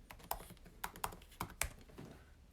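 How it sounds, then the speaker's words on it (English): Fingers type on a computer keyboard, with irregular clusters of sharp, close key taps spread over a couple of seconds and no voice over them. "I'm typing in John Murphy."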